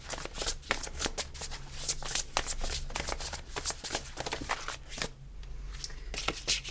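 Tarot cards are shuffled close up, with rapid crisp riffling and slapping in dense, uneven bursts that continue throughout without talking.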